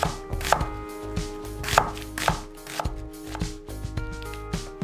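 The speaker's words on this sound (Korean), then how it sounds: "양파 4분의 1개는 살짝 굵게 채 썰기" A quarter of an onion being sliced thickly into strips on a cutting board, a close, rhythmic series of crisp knife chops against the board, with no talking.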